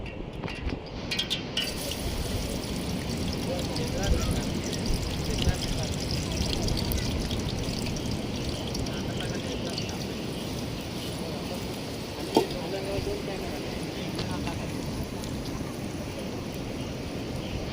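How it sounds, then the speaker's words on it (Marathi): Rough, churning sea at high tide on a beach, a steady broadband wash of surf with occasional louder breaking splashes; people talk faintly in the background. "तर समुद्र बऱ्यापैकी आता खवळला आहे. लाटबिटा आहेत बरीपैकी आणि हाय टाईड आहे"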